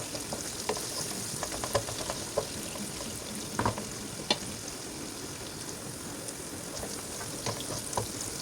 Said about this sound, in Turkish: Soğan güzel kavrulsun böyle bir 4-5 dakika. Pembeleşsin daha lezzetli olur.